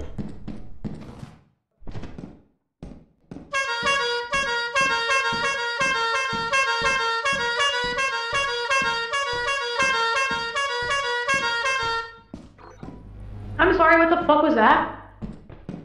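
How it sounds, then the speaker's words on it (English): A video-game vehicle horn honks in a rapid, rhythmic run of bright toots lasting about eight seconds. Voices talk before and after it. "They'll know I'm brave if I honk the horn."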